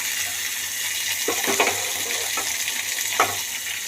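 Onions and garlic frying in a pan for green chilli chutney, a steady close sizzle with a few soft stirring scrapes and clinks, and no talking.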